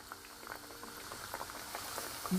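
Oyster mushrooms start frying in hot oil, a faint, dense crackling and popping like light patter, steady and close with no talk.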